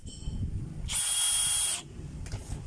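A repaired power drill with a worn chuck whirs loudly for about a second in a short high-pitched burst, between quieter background noise.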